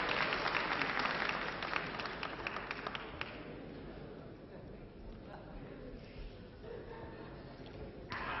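Wrestling crowd at Wagram applauding a Greco-Roman move by Gilbert Leduc, a dense burst of clapping in the first three seconds that thins into a murmuring hall with scattered claps.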